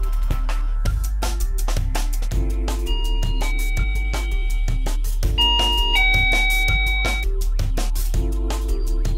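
A Plug'n'Go wireless plug-in mains door chime plays a bright electronic melody of ringing tones that repeat and overlap, loud and close throughout, with no voices.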